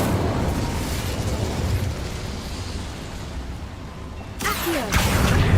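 An Incendio fire spell cast in Hogwarts Legacy, a loud roaring burst of flame that rushes and sustains, then flares again near the end.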